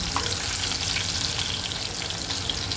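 Crushed garlic cloves sizzle in hot tempering oil for a fish curry, a dense, steady crackle and spitting heard up close without pause or speech.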